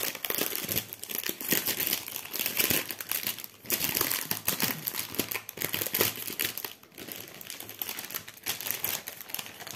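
Packaging of a diamond painting kit being opened, with continuous close crinkling and rustling of plastic and paper pouches, busy and uneven, with no talking.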